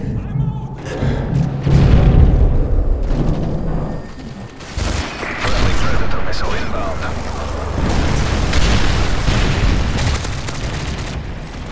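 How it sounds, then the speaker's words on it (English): Booming explosions and bursts of gunfire from a Predator missile strike in Modern Warfare 3, loud and dense, with heavy low rumble up front, a brief dip, then sustained blasts and combat noise under voices. "Predator missile inbound."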